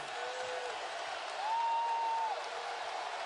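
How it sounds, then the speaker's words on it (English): Crowd noise at a Florida State Seminoles home basketball game against Duke, a broad sustained roar with a whistle-like tone cutting through partway, loud and continuous without a clear voice on top. "This crowd is really fired up, man."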